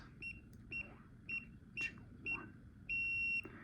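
A series of short electronic keypad beeps from a Philips smart lock as a code is entered, about six in an irregular rhythm, ending with one longer sustained tone; close and clear over a low background hum.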